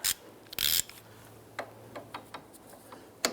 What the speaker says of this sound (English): We should be able to grab our ratchet.